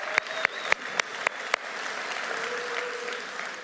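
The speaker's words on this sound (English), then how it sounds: "Give Pastor Sam and Michelle a round of applause" Audience applause for a pastor and his wife at a church conference session: a few sharp, distinct claps open, then give way to a steady, moderately faint wash of clapping from the crowd.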